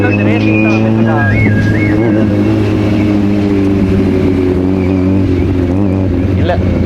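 A Kawasaki Z900 motorcycle engine drones steadily nearby during a road race, its revs rising and falling, with a steady harmonic hum throughout and people talking over it.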